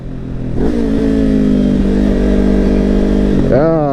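A motorcycle engine downshifting with a rev match, steady mid-pitched engine drone that builds after a brief rise, holds, then blips up sharply near the end as the revs climb.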